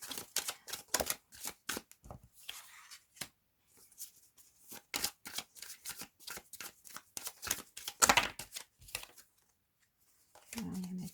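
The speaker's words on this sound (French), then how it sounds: "on va procéder au tirage." Tarot cards are shuffled and riffled close by in quick papery bursts with short pauses, faint and crisp, ending with a brief murmur.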